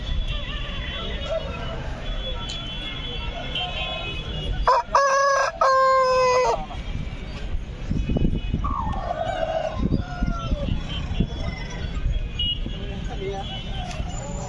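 Roosters and hens at the Nallapadu poultry market: one loud, close rooster crow rings out midway, with scattered clucking and a steady murmur of crowd voices throughout.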